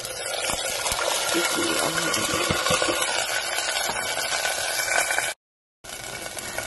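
Soaked chana dal tipped into a pan of cooked onions, giving a steady loud wet rush and sizzle that runs for about five seconds before a brief cutout and resumes.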